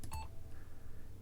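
A brief, quiet electronic bleep near the start marks a client-side hit that the server counts as a miss in a hitscan shooter, followed by a faint second tone over low background hum.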